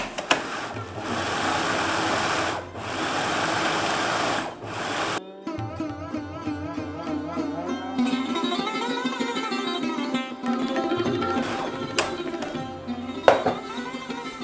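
Coriander leaves are blended into paste for beef tikiya kebab, the blender whirring loud and steady, cutting out briefly, then restarting with a changing, straining motor pitch.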